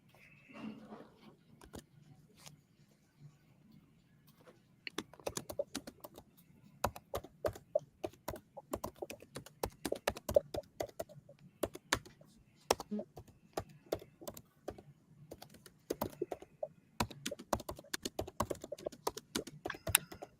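Typing on a computer keyboard, near and fairly quiet, with sparse taps at first and then steady bursts of keystrokes. A voice is briefly heard at the start.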